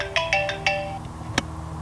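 Phone ringtone plays a quick series of bright electronic tones in a repeating pattern, followed by a single later chirp, over a low steady background hum.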